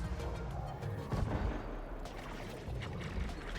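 Gunfire in the Destiny video game, muffled rumbling shots and booms in quick succession, fairly faint and low, with no talk.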